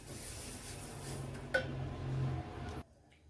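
Roasted sesame seeds for tilgul ladoo are tipped from a pan onto a plate, giving a soft clink of utensil on dishware and a brief scraping rustle, close and fairly quiet, ending abruptly.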